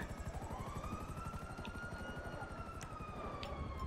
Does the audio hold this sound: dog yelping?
no